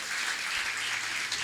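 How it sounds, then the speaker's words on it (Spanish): A church congregation breaks into applause, a dense sustained wash of clapping hands that stays loud and even throughout with no talk over it. "Denle un aplauso al Señor por eso."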